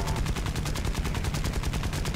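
Rapid bursts of aircraft machine-gun fire in War Thunder from a Japanese fighter plane, a fast, even stream of shots lasting the whole moment, close and fairly loud, with no talk.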